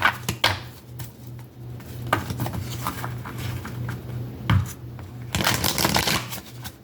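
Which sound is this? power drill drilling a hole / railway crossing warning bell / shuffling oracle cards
shuffling oracle cards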